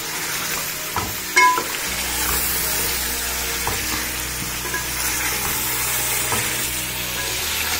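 Turmeric frying in salt in a pan for Delhi nihari, a steady close sizzle running throughout with faint stirring scrapes and one brief louder clatter near the start, no voices.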